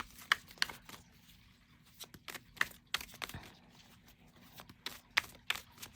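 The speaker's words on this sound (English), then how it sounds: "Okay, so let's shuffle." Tarot cards are shuffled by hand in quick irregular bursts of riffling and slapping, close and fairly quiet, with short pauses between the rounds.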